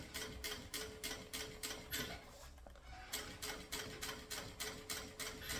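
A sewing machine stitches fabric for a mini backpack, its needle hammering in steady rapid bursts with a brief pause midway before resuming at an even pace, close and clear with no voices.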